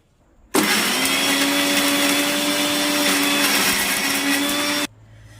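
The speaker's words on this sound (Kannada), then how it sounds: "ಈಗ ಮಿಕ್ಸಿ ಮಾಡ್ಕೊಂಡು" A mixer grinder starts abruptly and whirs loudly at a steady high pitch for about four seconds, then cuts off.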